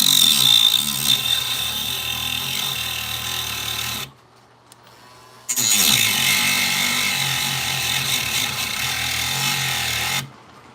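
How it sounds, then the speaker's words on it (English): A Dremel rotary tool grinds loudly and steadily through a plastic clip, stops briefly for about a second, then resumes its high whine for several more seconds before cutting out. "So I'm just gonna Dremel off one of the clips without damaging anything else in the process."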